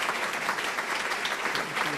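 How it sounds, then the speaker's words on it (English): Steady audience applause for county commissioners at a leadership prayer breakfast, a dense even patter of many hands clapping continuously at moderate level with no voices standing out. "If we could have a round of applause for all of those county commissioners."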